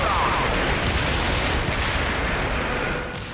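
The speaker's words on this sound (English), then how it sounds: "It was nice of the explosions to wait until you enter a room." Dense, continuous roar of explosions and gunfire fills a combat scene in the PS3 game 007 Blood Stone, loud and close throughout, with sharp bursts punctuating the rumble.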